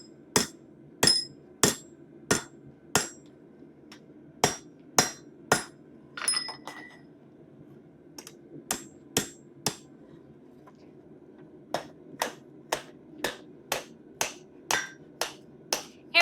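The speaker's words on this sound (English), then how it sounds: "So we're trying to hammer these guys together, both sides." Sharp, ringing hammer strikes on metal bolt tongs in steady runs, with a brief pause midway before the rhythmic blows resume.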